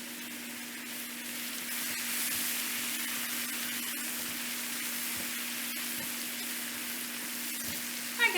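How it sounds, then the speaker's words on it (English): Sliced mushrooms browning in half a stick of melted butter in a pan, giving a steady, even sizzle and crackle with a low constant hum underneath and no talking. "we're just browning up an 8-ounce package of sliced mushrooms and a half a stick of butter"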